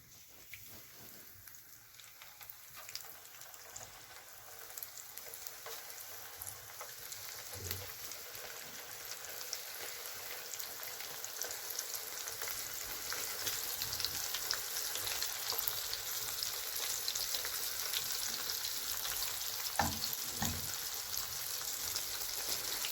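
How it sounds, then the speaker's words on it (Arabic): Floured sardine fish frying in hot oil, a crackling sizzle that starts quiet and grows denser and louder over time, with occasional pops and light knocks of handling close by. "والزيت اهو سخن. هنحط السمك"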